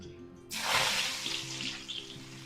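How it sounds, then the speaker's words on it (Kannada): Garlic and curry leaves dropped into hot oil for a homemade spicy mixture, bursting into a sudden loud hiss that settles into a steady sizzle, close and alone. "ಅದನ್ನು ಅಷ್ಟೇ ಒಳ್ಳೆ ಫ್ರೈ ಆಗಲಿ"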